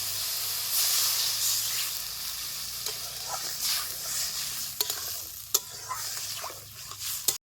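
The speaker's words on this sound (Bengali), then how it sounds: "এখন আমি দিয়ে দেবো জল" Water hits hot frying spices in a pan for moka fish curry and throws up a loud, steady hiss of steam. Occasional sharp clinks of a utensil sound close by, with no voices.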